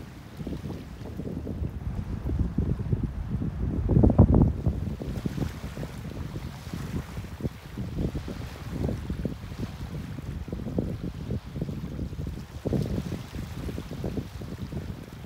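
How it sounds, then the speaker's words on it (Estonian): Wind gusting while kayaking at sea, a constant rumbling buffet on the microphone with splashing water and surges that peak briefly, no voices. "tuul on otsa mandrilt poolt ja diagonaalis tuulega ei ole väga mugav sõita"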